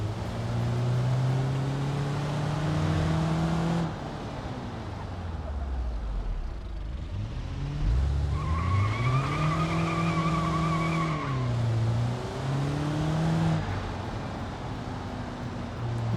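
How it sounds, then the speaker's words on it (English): Squealing tires from a one-wheel car burnout in BeamNG, sustained engine roar rising and falling over the screech, loud and close with no talk. "You can still do a burnout though. I mean, one tire, but there is a burnout."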